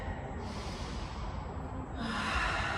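A deep inhale during a yoga session, a long steady breath drawn in close to the microphone, swelling slightly louder toward the end.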